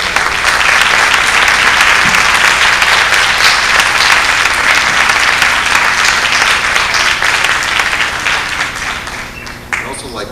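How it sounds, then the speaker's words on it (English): Sustained applause from an indoor audience closing a congressional candidates forum, a dense steady wash of many hands clapping that carries at full strength for ten seconds and only eases slightly right at the end. "How about a round of applause for all of you?"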